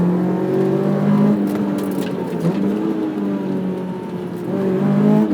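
A 2006 Honda S2000 AP2 engine holds a steady, loud drone on a track, with the tone dipping and then climbing again as revs rise toward the end of the clip.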